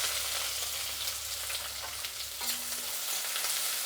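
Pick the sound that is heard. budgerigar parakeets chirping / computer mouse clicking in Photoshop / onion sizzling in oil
onion sizzling in oil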